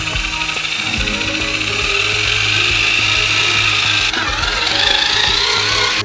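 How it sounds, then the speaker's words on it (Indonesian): A big electric mixer churns a cottage-cheese-like dough for a giant homemade Kinder Country bar, giving a loud, close, continuous mechanical whirring and grinding that shifts pitch slightly partway through. "Dan sekarang semua ini perlu dicampur dengan mixer besar."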